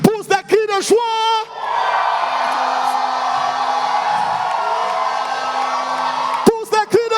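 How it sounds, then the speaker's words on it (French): A worshipping crowd at a lively church event shouts and cheers for joy in a loud, sustained roar, with excited whoops at the start and at the end. "Pousse des cris de joie."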